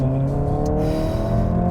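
A 1.5-liter four-cylinder car engine of about 200 horsepower pulls under acceleration with passengers on board, giving a close, steady tonal drone that climbs only slightly over a brief stretch.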